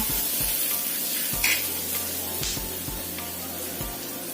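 Onion dry-roasting in a pan with no oil, a steady close sizzle and hiss running throughout with a few soft stirring knocks, no voices.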